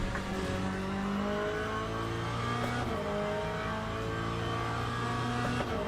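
Corvette race car in Le Mans Ultimate, its engine droning loud and steady throughout, with pitch rising and dropping through gear changes as it accelerates, no voices.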